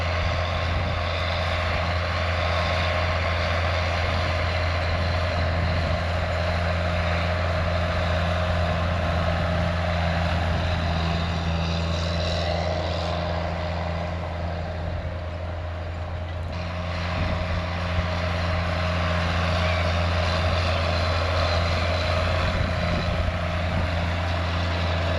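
A tractor engine drones steadily while seeding oats in a Western Australian paddock, pulling a 1980s seeder: a constant loud low hum with a drawn-out tonal whine, unbroken and free of speech.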